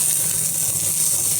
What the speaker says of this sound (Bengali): এক পিঠ ভাজা হয়ে গেছে, এইভাবে উল্টে উল্টে আর এক পিঠ দেবো